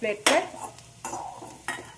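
A spoon stirs and lifts fried garlic from hot oil, with three sharp metallic scrapes and clinks over a low sizzle, close and fairly loud.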